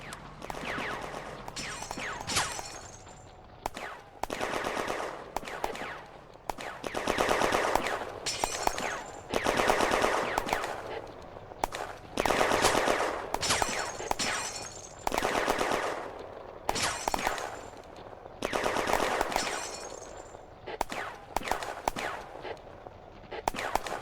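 Bursts of machine-gun and rifle fire in the Firefight war game, a 1940 battle at Bléneau railway station, rattling in repeated volleys with short pauses between them, fairly close and dense, with no voices.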